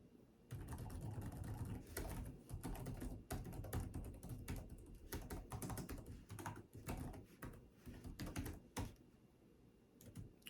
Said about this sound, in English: I personally really enjoy typing on the keyboard